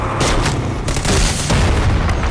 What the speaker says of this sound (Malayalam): വെടിവെപ്പ്.